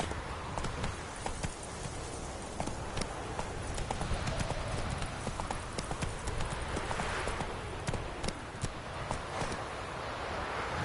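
Hooves of the horse Roach clip-clop at a steady walking rhythm in The Witcher 3, close and continuous over a dense background of game ambience, with a low rumble throughout.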